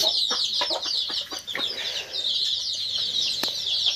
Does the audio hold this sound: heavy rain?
no